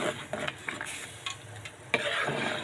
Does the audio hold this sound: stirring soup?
yes